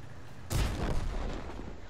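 Artillery shell fire in a World of Tanks-style game while driving a tier 4 SU-85B tank destroyer: one sudden, heavy blast with a long rumbling decay, standing alone.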